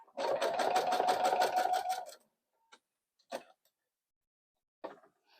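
A sewing machine stitches a jelly roll rug in a quick steady run of about two seconds, then falls quiet apart from a few soft clicks and handling knocks.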